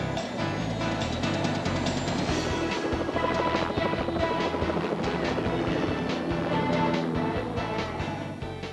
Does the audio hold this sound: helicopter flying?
yes